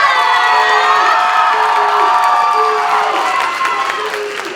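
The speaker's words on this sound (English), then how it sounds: "can I please get a round of applause for Julio and Maria representing my city?" A university pageant crowd at Mr. & Mrs. Latino in Buffalo cheers and claps loudly for a couple representing the host's city, with high shrieks and whoops over steady applause that fades slightly at the end.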